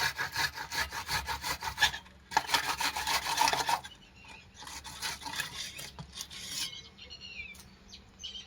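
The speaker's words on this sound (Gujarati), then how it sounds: "એટલે આપણે એક ડુંગળી ખમણી લેવી" An onion is grated by hand in a home kitchen, rapid scraping strokes in two bursts followed by softer, intermittent rasping, with faint bird calls in the background.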